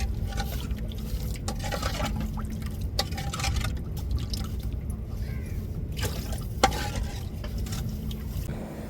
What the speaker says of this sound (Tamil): இப்போ தேவையான அளவு தண்ணி சேர்த்துக்கிறது சட்னிக்கு